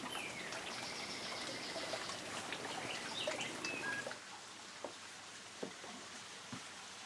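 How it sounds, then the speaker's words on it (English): Water trickles and splashes steadily in a backyard water garden, a soft, continuous babble heard close, with faint bird chirps; the flow fades partway through, leaving quiet drips and light clicks. "And I hear the water teasing us a little bit."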